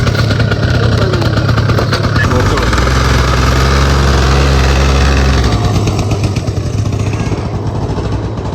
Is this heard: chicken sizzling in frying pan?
no